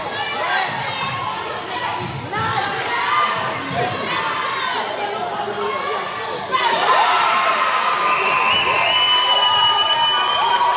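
A netball crowd at a Jamaica versus Trinidad and Tobago youth qualifier cheers and shouts steadily, getting noticeably louder partway through. A commentator talks over the noise, and ball bounces and squeaks are heard on court.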